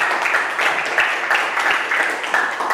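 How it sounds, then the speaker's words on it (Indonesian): A room of training participants applauds a group after its presentation, dense continuous clapping close and fairly loud with a steady pulsing texture, no talking over it. "Kita beri aplaus kepada kelompok 1."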